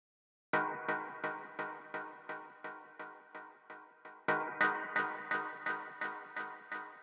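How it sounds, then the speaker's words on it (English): Synth stab chord from a deep minimal house track, struck in a steady rhythmic series of short, bright chordal hits that each decay quickly, repeating alone with a slight accent partway through. "Next sound we have here is the stab"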